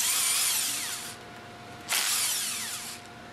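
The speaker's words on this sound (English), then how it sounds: "Use the impact wrench with a 5mm hex attached to loosen the 4 bolts from the top" A power impact wrench fitted with a 5mm hex bit loosens bolts on a pump's top cover, two loud whirring bursts of about a second each separated by a brief pause, close and alone.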